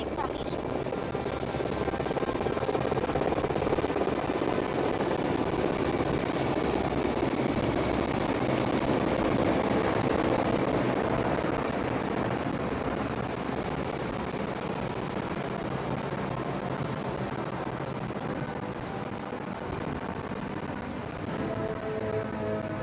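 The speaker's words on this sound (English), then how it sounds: "The formation is being flown by 152 helicopter unit, also known as the Mighty Armor." Indian Air Force helicopter formation from 152 Helicopter Unit flying overhead during a 90th anniversary flypast, a loud continuous rotor roar throughout that stays steady from start to finish.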